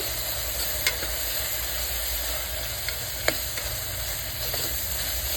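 Potatoes with turmeric and garam masala frying in oil for a millet aloo pulao, a constant close sizzle with a few isolated clicks of a spoon stirring against the pan.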